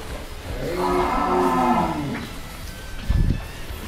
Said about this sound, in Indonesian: Gede banget nih, sapi dari mana, Mas?